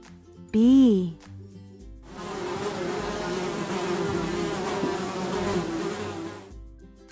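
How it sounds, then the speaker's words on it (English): A bee buzzes steadily and fairly loudly for several seconds, a dense continuous drone following a short rising vocal tone at the start. "Bee."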